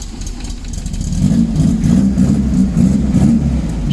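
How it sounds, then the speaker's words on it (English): A 1974 VW Beetle's air-cooled flat-four engine that has sat for years runs steadily and close, a low uneven burble that rises slightly around the middle, with no talking over it. "I love that flat 4 sound"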